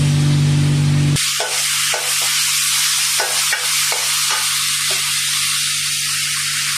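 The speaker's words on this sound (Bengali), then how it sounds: "মশলা দিলাম, মশলা কষিয়ে নিলাম।" Spices frying and being stirred in a pan while making a fish curry with aubergine and potato: a loud, steady sizzle with repeated scraping stirs, after a brief opening hum.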